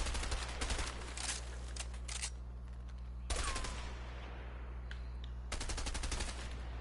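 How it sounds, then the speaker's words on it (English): SMG fire in the video game A Way Out, heard as loud automatic bursts with rapid, evenly spaced shots. Two or three long strings are broken by short gaps, close and dominant, with no talking. "I think I might do this SMG."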